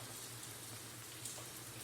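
Steady rain falling on a damp, muggy street, a soft continuous hiss at low volume with no voices over it.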